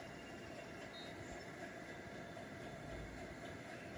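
A Coleman 431 pressurized stove roars with a steady, dense hiss and faint rhythmic pulsing, alone and close-up, with no speech.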